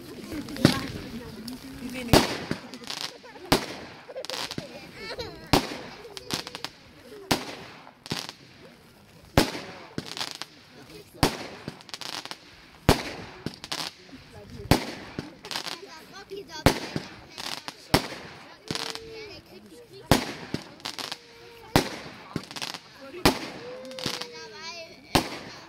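A music-synchronized fireworks show in Stein near Nürnberg: comet shells rise and burst into popping stars, sharp crackling reports repeating irregularly over about 25 seconds against a quieter background.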